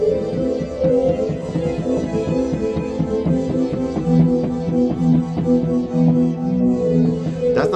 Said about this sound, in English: So a lot of these sounds are very ambient, and meaning that they change and evolve as you're playing.